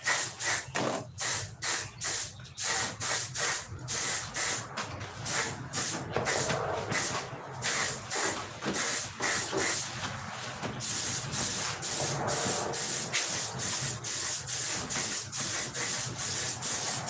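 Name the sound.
spray can spraying clear coat on a propeller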